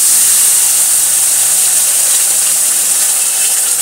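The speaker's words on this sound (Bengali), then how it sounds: "তো আমি এই মশলাটা এতে ঢেলে দিচ্ছি" A ground spice paste with green chilli hits a hot pan for Bengali begun bahar, giving a loud steady hiss and sizzle that holds without a break, no voices.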